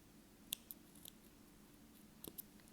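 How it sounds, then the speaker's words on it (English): Scissors snip crochet yarn in a few quick, faint, crisp cuts against quiet room tone, with no talking. "And now let's just snip this."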